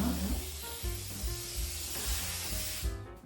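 A steady, continuous hiss of cooking oil aerosol spray coating a baking pan for a few seconds close by, with a faint low hum underneath.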